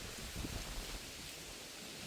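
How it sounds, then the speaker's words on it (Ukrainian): Steady broadband hiss of rain falling, constant and fairly soft, with a few low thumps near the start and no voices. "піду в хату ховатися від дощу"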